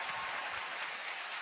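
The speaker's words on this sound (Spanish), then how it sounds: "Por favor, un fuerte aplauso para recibirlos." An audience claps to welcome a guest choir at a concert, a dense, even wash of applause from many hands sustained throughout a short burst.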